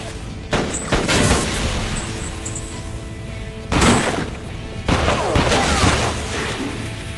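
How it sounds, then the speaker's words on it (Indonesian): Gunfire in a film's basement shootout: several loud sharp bursts of shots ring out against a dense, echoing action-score background, with rapid clusters of cracks separated by short gaps. "Hingga di basement mereka saling adu tembak."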